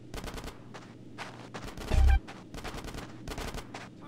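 Gunfire in Grand Theft Auto: San Andreas: several bursts of rapid shots and one heavier blast mid-way, loud and close, in a busy game firefight.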